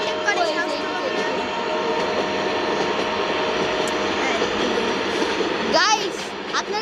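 A train passes during a bus driving video game, a sustained rumbling drone with tonal engine whine and a rising horn-like sweep near the end, close and loud under the game's mixed sounds.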